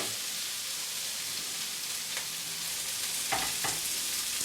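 Vegetables for an Asian-style stir-fry hit very hot oil in a pan, raising a loud, continuous hiss with a few soft knocks as pieces are separated, and no talking.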